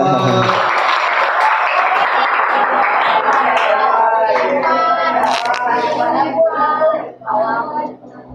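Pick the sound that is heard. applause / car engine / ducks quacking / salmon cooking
applause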